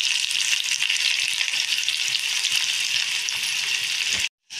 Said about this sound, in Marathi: मी त्याच्यात हा अर्धा बारीक चिरलेला कांदा